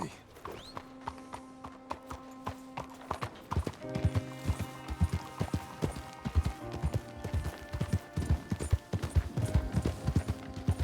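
Horse hooves clip-clop in a steady riding rhythm in Red Dead Redemption 2, getting louder and quicker after a few seconds, with tack creaks and short voices around them.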